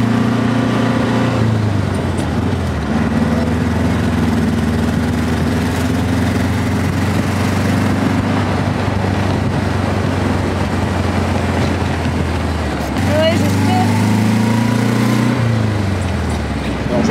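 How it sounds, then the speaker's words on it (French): An old car engine with a small hole in its exhaust rumbles steadily up close with a rough, raspy exhaust note, briefly revving near the end, while people talk over it at a vintage 1970s festival. "J'ai un petit trou au pot d'échappement, ce qui fait qu'elle a un beau petit bruit."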